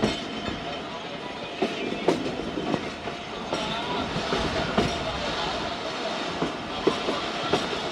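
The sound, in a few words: Jaffar Express passenger train passing on rails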